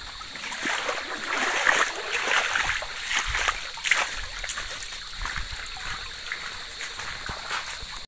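Footsteps splash and wade through a flowing rural river on the way to a rice paddy harvest, with continuous trickling water, irregular splashes and faint voices in the background.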